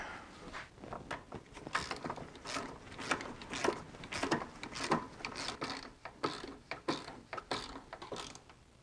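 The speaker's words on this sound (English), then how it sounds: "this bolt doesn't want to drive in" A ratchet drives a stubborn exhaust manifold bolt on a BMW E46 with an M54 engine, giving close, uneven bursts of clicking strokes with short pauses between them, nothing else alongside.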